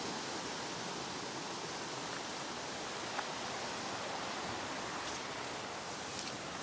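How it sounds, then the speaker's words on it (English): A small waterfall found on a moorland walk across a large regional park in the UK, heard as a steady, broad rushing wash of falling water that stays even and close for the whole stretch, with no voices. "Just a random little waterfall that I've stumbled upon that I didn't previously know about"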